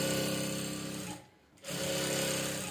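A sewing machine running straight stitches through fabric for a midi dress, a steady loud whirring drone that stops for a fraction of a second and then resumes at the same pace.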